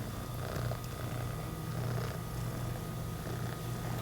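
A house cat purrs steadily and close up, a continuous low rumbling throb that swells slightly in waves with no voices over it.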